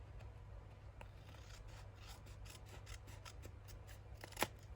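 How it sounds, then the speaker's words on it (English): Scissors trim paper pieces for a junk journal, a quiet close run of rhythmic snipping and rasping strokes over a low background hum, with one sharper click near the end and no talk. "just cut it."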